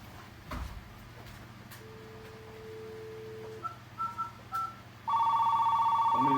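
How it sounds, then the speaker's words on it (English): An AT&T 210 Trimline telephone with a faulty ringer sounds off, a steady electronic warble that starts late and holds loud after some faint tones and handling noises. "Try to ring up the phone, even though the ringer's spoiled."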